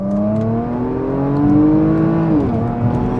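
A Porsche Macan Turbo engine revs hard in Sport Plus and climbs steadily in pitch, then drops briefly as a gear changes, loud and close throughout.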